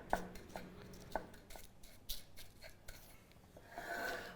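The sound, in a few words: measuring spoon pressing crumb crust into tins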